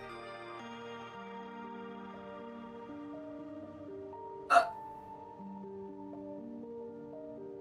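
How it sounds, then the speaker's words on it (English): A single sharp hiccup cuts through soft background music during a Minecraft building session. It is brief and close. "That's not burping, that's hiccups."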